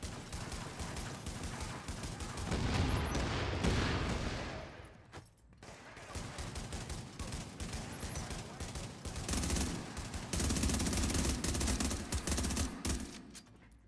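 The Bullfrog gun in a co-op shooter mission, firing long rapid automatic bursts that rattle loud and close, broken by a short pause, under faint game sounds.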